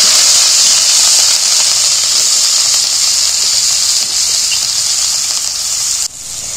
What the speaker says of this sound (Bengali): আমি গ্রেভিটা কড়ার মধ্যে তুলে দিচ্ছি।